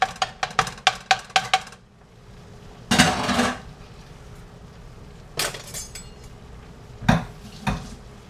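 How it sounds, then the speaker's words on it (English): A regular spoon clatters against a pan while stirring and breaking up ground beef for sloppy joes: a quick run of sharp metallic taps, then louder scraping bursts and scattered clanks, close and with no talking. "just take a regular spoon and you're just going to keep mixing the beef around"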